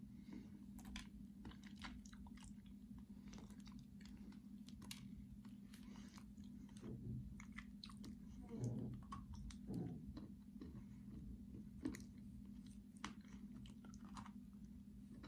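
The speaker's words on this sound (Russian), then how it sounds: "Вот ее кусаешь, она сразу прилипает к зубам." Edible clay is bitten and chewed up close, with soft crumbly crunches and sticky mouth sounds that come in irregular bursts over a quiet background with a steady low hum.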